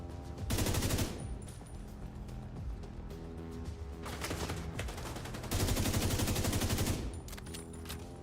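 Sustained video-game gunfire: dense automatic bursts swell loud around the first second and again near five to seven seconds, with a steady rattle of shots continuing in between and no voices.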